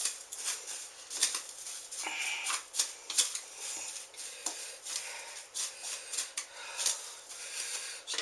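Food being stirred in a cast iron skillet while cooking braciole, with busy scraping and clattering strokes in an irregular rhythm, close and moderately loud.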